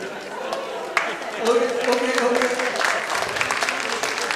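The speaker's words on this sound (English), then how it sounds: "They're clapping because this is an unusual answer." An audience claps at an interview lecture with a chest physician, a dense patter of hands running steadily for a few seconds with voices talking over it.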